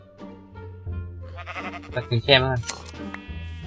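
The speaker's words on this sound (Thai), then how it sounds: "ตรงนี้มีแกะ" Sheep in the Minecraft survival game bleat in a few short, wavering calls near the middle, with Thai speech running throughout.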